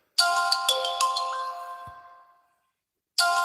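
Phone ringtone in the mobile mystery game Duskwood: a bright chiming melody plays clearly for about two seconds, falls silent for under a second, then starts again, loud and close with no talk.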